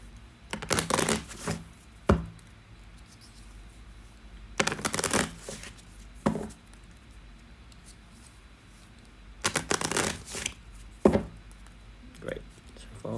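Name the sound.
shuffling a deck of game cards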